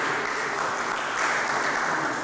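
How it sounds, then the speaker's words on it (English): Audience applause at an HIV/AIDS education session at a Bori-Ogoni development center, steady broadband clapping from a crowd filling the whole moment without pause. "Clap for me."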